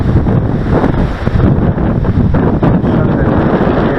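Strong wind on a beach during a model plane launch buffets the microphone in a loud, steady roar, with surf-like rushing underneath and no clear voices.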